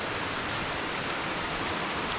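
Mototaki spring water in Akita flowing without a break, a steady broadband rush like a small waterfall or fast stream, even in level and heard alone.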